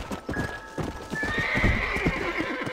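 Horse hooves clop steadily at close range while a horse lets out a long, high whinny over the top, in Red Dead Redemption.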